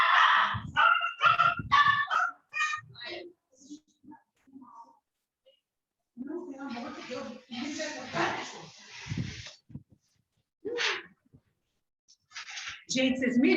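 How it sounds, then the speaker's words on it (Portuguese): Four dogs in a house bark and yip in sharp bursts while scrambling about, loud and close, between stretches of someone talking. "tem 4 cachorros aqui em casa e saíram correndo"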